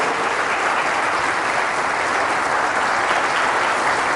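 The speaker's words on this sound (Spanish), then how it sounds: "Fuertes aplausos a la Virgen" Loud applause for the Virgin Mary from a church congregation during a priest's sermon, a thick, sustained clapping roar that holds steady with no pauses and no voices.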